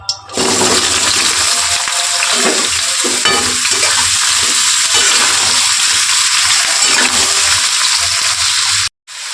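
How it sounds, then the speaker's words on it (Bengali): Chopped ridge gourd hitting hot oil bursts into a loud, dense sizzle that roars steadily for several seconds, with faint stirring underneath, then cuts off abruptly. "আর তেলটা হয়ে গেছে, তো আমি দিয়ে দিচ্ছি কেটে রাখা ঝিঙেটা।"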